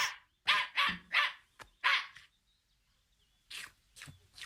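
Small dog barking in a burst of four or five sharp yaps, then a pause and two more barks, loud and close with no talk over it.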